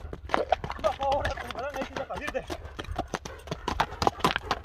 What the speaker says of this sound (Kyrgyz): Мынакей атты көрдүңүздөр